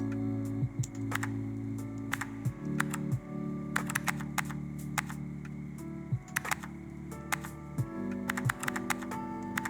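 Keys are typed on a keyboard while playing the typing game CozyTyper, with crisp clicks in uneven clusters over a steady low hum and soft game sounds.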